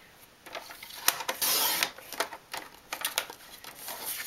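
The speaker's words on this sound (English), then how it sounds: "I take my cutter and I'll cut where I marked" A paper cutter slices through a homemade wedding invitation card in a few quick, close scraping strokes, with short crisp rasps and a longer drawn-out cut in the middle, no talking.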